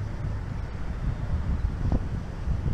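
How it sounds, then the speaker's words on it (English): Wind blows outdoors in a store parking lot, buffeting the microphone with a steady low rumble and gusty swells throughout, with no voices. "Windy, but kind of nice out."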